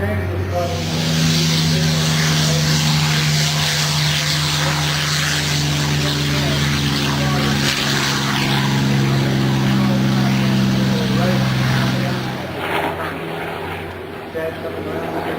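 Airplane taking off in front of the crowd at the AirVenture airshow, a loud sustained engine drone with strong steady low tones that persists for about twelve seconds before easing, heard beneath an announcer's voice.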